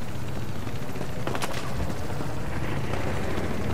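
Sustained gunfire from a Battlefield Hardline match, a dense continuous barrage of automatic shots with a sharp crack near the middle, loud and close with no talk over it.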